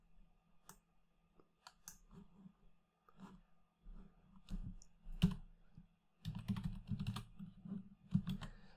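Computer keyboard keys pressed in a steady stream of soft, close clicks, with irregular rhythm and denser bursts of typing toward the end, no talking.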